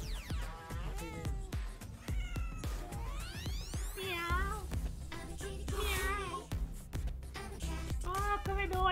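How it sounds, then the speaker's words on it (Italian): A cat character in the Fortnite video game meows repeatedly in high, sliding cries over a busy layer of game sound. "Come dolce questo gattino."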